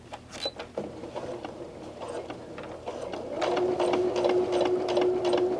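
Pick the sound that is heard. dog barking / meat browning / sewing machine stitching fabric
sewing machine stitching fabric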